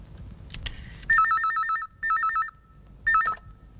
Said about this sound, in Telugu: అలాగే నేను ఫోన్ చేస్తాను.